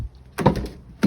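A replacement door on a crashed Ford Mustang shuts with a solid, close thunk, then a second shorter knock about half a second later, with quiet moments in between.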